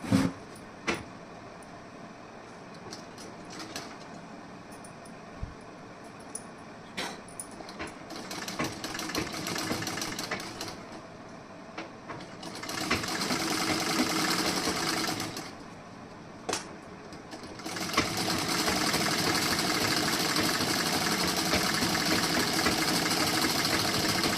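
Sewing machine stitching a pinned blouse back panel, running in several long bursts of steady whirring separated by brief pauses and clicks, close and fairly loud with no talk.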